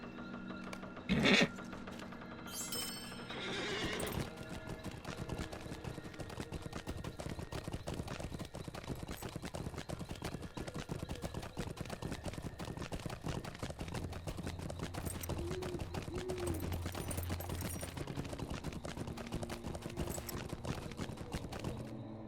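Horse hooves clip-clopping steadily while riding a mount in the LOTRO video game, with a continuous rhythmic trot at moderate level over faint game ambience.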